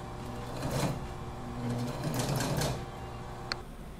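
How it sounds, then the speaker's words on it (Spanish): A domestic sewing machine stitches a straight seam on the pockets of a hooded sweatshirt, a moderately quiet whirring run with small mechanical clicks and a brief sharp tick near the end. "vamos a colocarle costura recta a los bolsillos"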